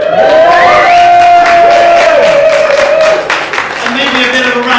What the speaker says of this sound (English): Can we get a bit of a round of applause for Paul tonight?